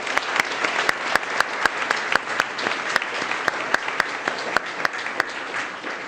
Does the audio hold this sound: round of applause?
yes